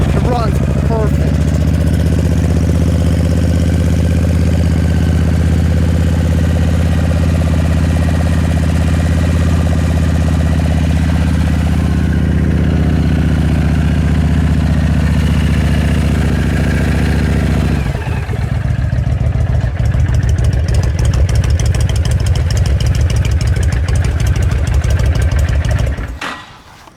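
A 2005 Honda VTX 1300 motorcycle engine idles loudly and steadily up close, with a deep, even rumble that shifts in tone near the end before cutting off.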